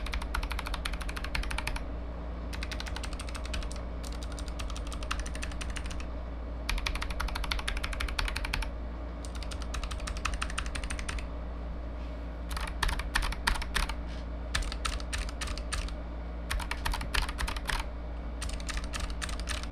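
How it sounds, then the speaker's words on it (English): Rapid, clacky bursts of typing on a Razer Huntsman Mini mechanical keyboard with clicky optical switches, close up, coming in uneven runs with short pauses over a low steady hum. "Let me go ahead and compare it to my Kailh Blues and my Box Whites."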